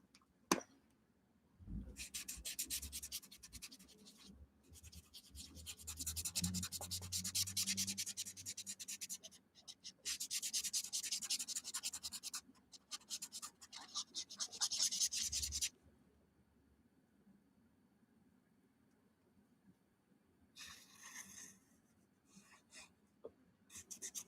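A marker with fine and chisel tips coloring a Halloween coloring book page, close and quiet, with several stretches of brisk scratchy back-and-forth strokes separated by pauses.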